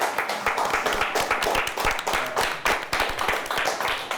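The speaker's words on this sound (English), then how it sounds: "Both teams deserve a nice round of applause" Close, loud clapping from a small studio audience after a quiz show match, with distinct rhythmic hand claps blending into brisk applause.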